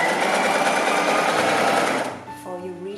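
A sewing machine stitching push-up bra fabric runs at a fast, steady whir for two seconds, then stops, leaving quieter clicks and a faint hum while someone speaks.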